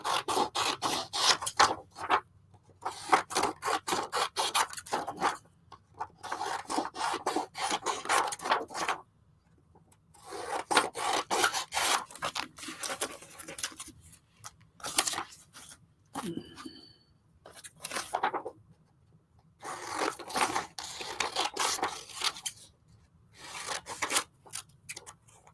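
Scissors snip through paper while cutting flowers out for a collage chess poster, a run of close, crisp bursts separated by short pauses.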